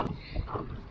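Wind buffets the microphone in low rumbling gusts on a lake, with a boat on the water faintly underneath, steady for the whole second.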